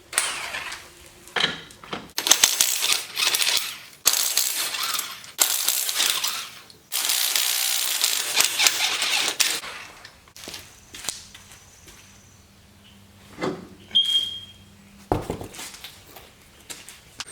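Wheels coming off a Polaris 570 as lug nuts are removed: close, sharp metallic clanks and rattles in separate bursts with pauses, then quieter clinks and a last hard clatter, no talking.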